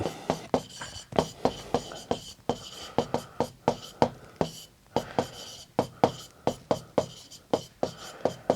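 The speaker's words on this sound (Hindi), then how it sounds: "पहले अपन वो लिख लेते हैं" Pen strokes of a handwritten equation for a line joining two points, a steady run of short scratchy taps and strokes, close and fairly clear, with no talk over them.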